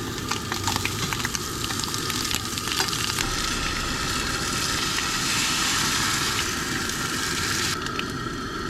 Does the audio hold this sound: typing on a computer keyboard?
no